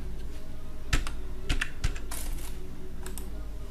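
Typing on a computer keyboard gives a few distinct, sharp key clicks spaced irregularly, close and fairly loud over a low steady hum, with no talking.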